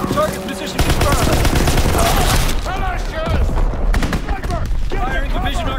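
Division artillery fires in a WWII video game, a loud, dense barrage of booming blasts and rapid gunfire with faint voice-like radio chatter mixed in the background.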